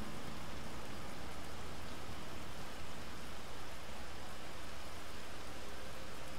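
Rain setting in within the video game Batman: Arkham Asylum, a steady broadband patter and hiss of falling drops that stays even and continuous throughout, with no voices present.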